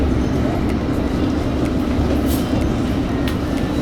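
Train pulling into Richmond station, a loud, dense, continuous rumble and roar heard from aboard, steady throughout with faint high squeals.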